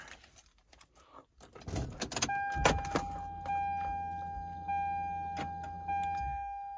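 Keys jangle and click before a 1998 Toyota Supra with an HKS 4-inch titanium exhaust and silencer cranks to a cold start, settling into a low, steady idle rumble with repeated electronic dash chimes over it.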